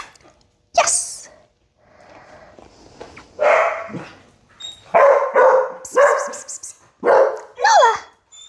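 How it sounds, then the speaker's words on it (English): Young dog pups bark in short, high yips and bursts, several separate barks spaced across the stretch, close and fairly loud, with some soft human voice between them. "Her barking makes them bark a little bit longer."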